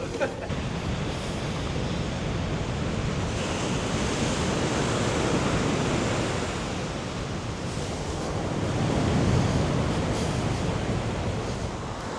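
Waves washing onto Playa del Camison beach on the Tenerife seafront, a steady broadband surf roar that swells slightly, mixed with wind buffeting, and a voice is heard over it.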